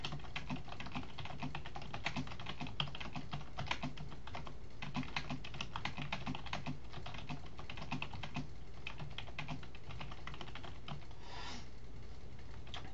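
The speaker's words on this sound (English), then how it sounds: "So as you're typing," Steady typing on a computer keyboard, a continuous run of quick, close key clicks with uneven rhythm and no talking over it.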